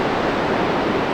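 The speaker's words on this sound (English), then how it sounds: "You hear nothing but the waves." Surf breaking steadily along the Oregon coast near a lighthouse hiking trail, a continuous broadband roar of waves that fills the whole moment at close range, with no voices.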